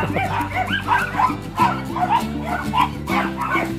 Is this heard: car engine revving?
no